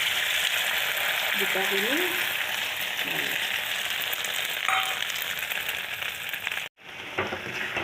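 A paneer omelette fries in hot oil, a steady close sizzle running throughout with a brief clatter of a utensil and a short break near the end.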